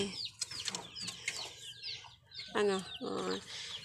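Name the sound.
chickens clucking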